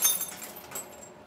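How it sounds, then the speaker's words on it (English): Ordinary window glass breaks during a classroom demonstration of glass properties, giving one bright, close crash with sharp high tinkling that fades quickly over about a second. "We're going to break some glass"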